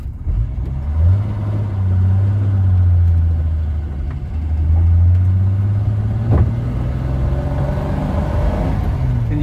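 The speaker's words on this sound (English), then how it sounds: "Can you hear that six-cylinder torquing?" A 1961 Vauxhall Velox with a 2.6 litre six-cylinder engine pulling in first gear, a deep steady rumble that rises and falls as it climbs through the revs, heard close from inside the car.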